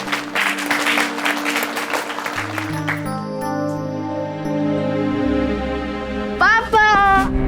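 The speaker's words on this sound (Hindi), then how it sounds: "जोरदार तालियों से विवेक का स्वागत करिए।" Applause at an award ceremony greets a debating competition winner, a dense burst of clapping in the opening seconds that gives way to sustained tonal music and a rising sweep near the end.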